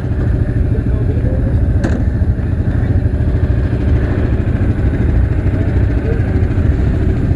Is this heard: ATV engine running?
yes